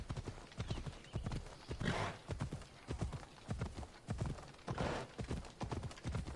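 A horse trots in Assassin's Creed Odyssey, a repeated rhythmic clip-clop of hooves striking ground in close, loud bursts, with a neigh mixed in.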